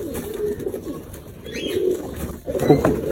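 A Bangladeshi Giribaz pigeon coos in low, soft, repeated calls close by over a rustling background.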